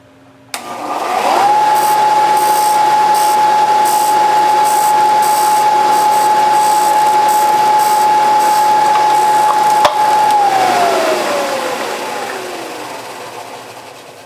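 An antique Briggs & Stratton lever-start engine is spun over by a belt: a loud steady whine quickly rises to pitch, holds evenly for about nine seconds, then winds down, with no talking.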